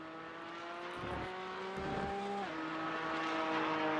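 A Porsche race car lapping the Oschersleben circuit, its engine droning steadily with a clear rising-and-falling pitch as it shifts, heard at moderate distance with faint track ambience.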